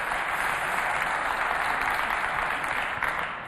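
A studio audience at a Chad television show applauds steadily, a dense continuous clatter of many hands clapping at even loudness that fades slightly at the end.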